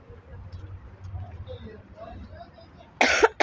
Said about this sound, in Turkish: Öksürüğüm var.